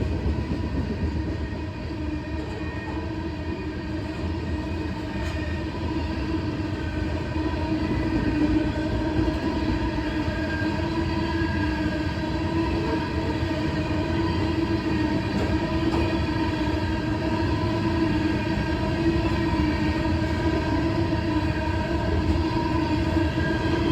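A CSX freight train hauling old C&W coke hoppers rolls past a siding in Tipp City, Ohio, with a steady, loud, close rumble of wheels and cars that runs unbroken throughout, with no talking.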